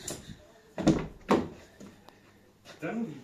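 A Chevrolet Volt car door is handled nearby, giving a few distinct knocks and clunks between stretches of talking.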